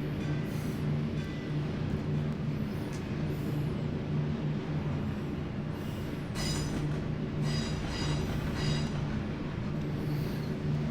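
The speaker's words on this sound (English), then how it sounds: "we just have to make sure we stop the train before it runs off the map" Passenger train running in a train video game, a continuous loud rumble of wheels on track with a steady low hum and occasional higher squeals and clicks, no voices.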